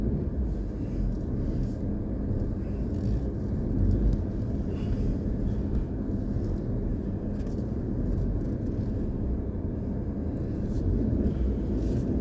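A 2024 Suzuki Jimny 5-door drives off-road in 2H, its engine a steady, loud low rumble with constant road and body noise running throughout, and no talk over it.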